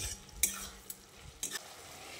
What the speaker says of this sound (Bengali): চিনিটা দিয়ে আবারও সব কিছুকে ভালো করে নেড়ে চেড়ে মিশিয়ে নিচ্ছি।